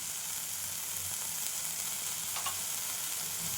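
Ridge gourd sautéing in a pan with roasted sesame powder, coriander and salt, cooked without onion, garlic or tomato: a steady close sizzle with soft stirring scrapes running all the way through.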